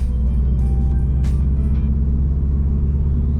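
A 2008–2014 Subaru WRX accelerates on the road to about 60 km/h, its engine giving a steady, close, low rumble that holds without a break and with no talk.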